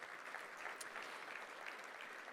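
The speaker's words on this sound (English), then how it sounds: "Another round of applause for them." Applause from an audience at a World Trade Week trade event, a steady, dense wash of many hands clapping at moderate distance, continuous throughout with no voices standing out.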